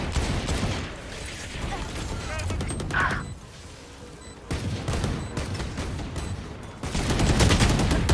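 Gunfire in Valorant: bursts of rapid weapon fire and sharp shots come in clusters, loud and close, with gaps between volleys and a heavy sustained burst at the end.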